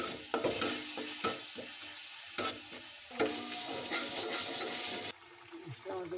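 Garlic fries in oil in a kadai for carp fish curry, giving a continuous sizzle broken by repeated loud spoon-and-pan clanks from stirring, then dropping quieter near the end.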